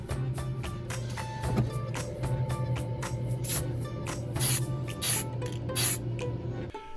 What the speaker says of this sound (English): you just have to very lightly mist this over your charcoal